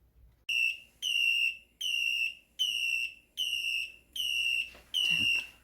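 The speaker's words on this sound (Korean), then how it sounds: "계란이 다 삶아지면 어떤 알람이 오는지 이따가 한번 보여드릴게요." An egg boiler alarm sounds when the eggs are done: seven evenly spaced, piercing electronic beeps repeat about once per second, loud and close in a quiet kitchen.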